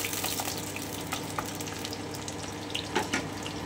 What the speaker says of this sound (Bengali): খুব সুন্দর করে একটু ভেজে নেব, হালকা গোল্ডেন ব্রাউন হবে।